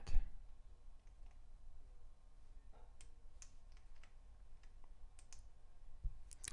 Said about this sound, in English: sorry for the typing on my clacky keyboard